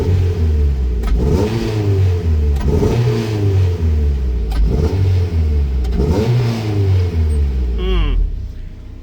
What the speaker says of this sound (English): Like it's running on 3 cylinders when you rev it.